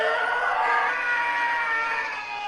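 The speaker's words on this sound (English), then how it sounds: "And of course, the Howie Scream." The Howie scream movie sound effect rings out as one sustained, strained, high-pitched scream, loud and steady throughout.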